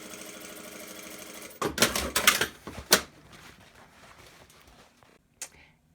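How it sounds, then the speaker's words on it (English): A sewing machine stitching a fabric face mask runs in a steady buzzing hum, then gives way to a few sharp mechanical clacks and thumps before going quiet with one last click, close and moderately loud, no talking. "And now I'm just going to do the second stitch line to create the casing for the wire."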